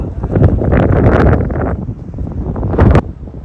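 Strong gusts buffet the microphone on a golf course at Dongbusan CC, in loud, roaring bursts that rise and fall, easing briefly before another hard blast.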